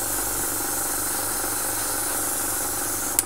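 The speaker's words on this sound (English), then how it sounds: "make sure we give it a good liberal coating of hairspray" Hairspray hisses from an aerosol can onto a Tamiya 1/35 Panzer II plastic model tank in one steady, continuous spray that holds for about three seconds before a brief louder burst at the end.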